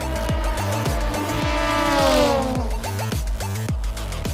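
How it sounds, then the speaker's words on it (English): Endurance race cars at Spa in the 2020 World Endurance Championship scream through Eau Rouge. Several engines howl together with rising and falling pitch as they pass, loud and close, with a tire squeal over the top. "Paul de Resta trying desperately to deny the Senior Tech car this move down into Eau Rouge"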